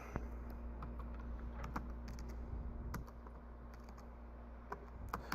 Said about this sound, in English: this laptop's new to me, so I'm not as good at typing on it.